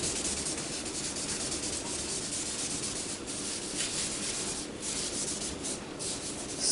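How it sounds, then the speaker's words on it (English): Cloth rag, a cotton t-shirt, rubbing steadily over a charcoal still-life drawing on paper, producing a continuous close, soft scratchy swish with faint rhythmic strokes and no talk. "Smoothing out parts of charcoal that just look too speckly."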